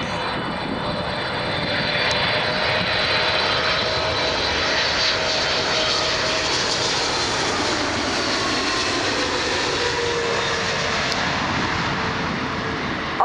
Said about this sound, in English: Etihad 777-300ER from Abu Dhabi.